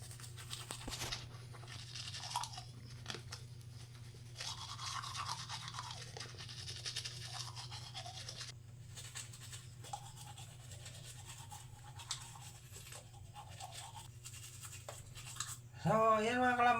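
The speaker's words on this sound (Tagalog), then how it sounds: "Tapos na po tayo mag-toothbrush mga kalambat" A toothbrush scrubs teeth in steady, scratchy strokes for a long stretch over a constant low hum, with a louder burst of noise near the end.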